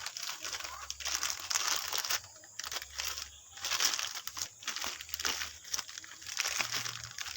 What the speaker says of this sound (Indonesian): Kita robek aja.